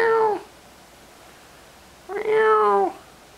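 Two meows from a domestic cat, one short call at the start and a longer, drawn-out one after a pause, both close and clear in a quiet room.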